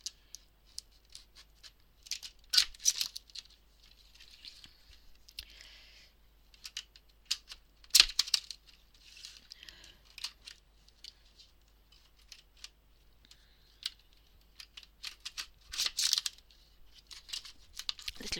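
Scissors snip and chew through tough plastic with several bursts of crunching, tearing cuts separated by short pauses, close and fairly quiet, no voices.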